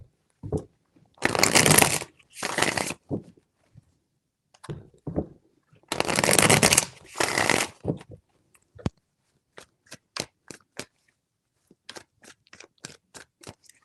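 Tarot cards shuffled by hand in three bursts, close and crisp: two long riffling passes, a quieter pause, another pair of riffles, then a run of sharp separate taps and flicks as the deck settles.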